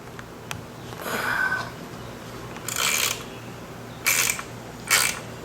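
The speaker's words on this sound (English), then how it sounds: "we're going to put our 1/4 inch wrench on it and we're going to loosen it 4 turns" A 1/4 inch ratchet wrench loosening a transmission band adjuster on a 32RH transmission, giving a few short ratcheting clicks and scrapes spread over several seconds, close and fairly quiet, with no talking.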